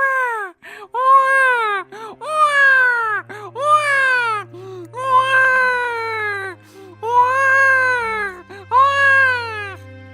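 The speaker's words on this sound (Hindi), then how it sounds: "तभी अंदर से एक बच्चे के रोने की आवाज आने लगती है।" A baby cries inside a dark magical cave in an animated Hindi story, with repeated loud wailing sobs broken by short breaths, over a low, steady music bed.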